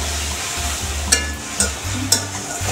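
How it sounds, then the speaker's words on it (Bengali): Spice paste of cumin, coriander, green and dried chilli with salt and sugar frying in a pan for a Bengali shing fish curry, a steady soft sizzle with three sharp spoon scrapes against the pan. "দেখুন, এবার আমি মশলাটা কষিয়ে দেবো।"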